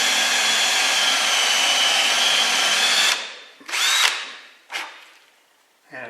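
A step drill boring a hole in punky wood, a loud steady whine for about three seconds, then two shorter bursts as the trigger is pulsed, ending with a brief restart.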